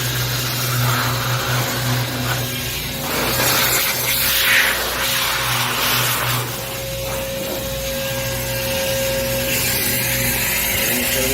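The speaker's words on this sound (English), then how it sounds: "it's kind of noisy with the lawnmowers next door" Steady droning of lawnmowers running next door, a continuous mechanical whir with constant hum that stays fairly loud and unbroken throughout, with no talking.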